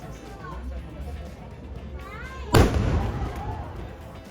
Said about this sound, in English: a cannon is fired from the top floor of this tower every